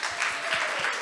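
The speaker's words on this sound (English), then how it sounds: "Can we get a round of applause?" An audience applauds at a mental health storytelling session, a dense wash of clapping from many hands that swells and holds steady for a moment, fairly close and without talk.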